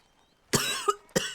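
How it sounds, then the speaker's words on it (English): A character in the video game Red Dead Redemption 2 coughs harshly, one long rasping cough followed by two shorter bursts, close and clear with no talking. "God, I've been coughing all night."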